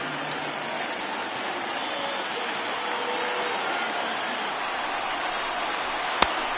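A stadium crowd of tens of thousands roars and cheers steadily during an MLB The Show 19 baseball game, Rockies versus Dodgers, a broad continuous wash of noise with a single sharp crack near the end.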